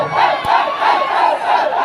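A large crowd roars and cheers loudly and continuously, a dense wash of many voices with one sharp thump partway through.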